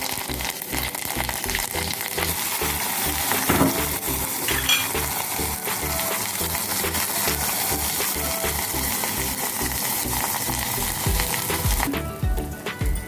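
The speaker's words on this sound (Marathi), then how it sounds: "मोहरी छान तडतडली म्हणजे यात आपण जिरे घालून घेऊया" Mustard seeds, cumin and curry leaves crackle and sizzle in hot oil in a pan for a potato amti, a loud, continuous frying hiss with faint clinks and steady background music.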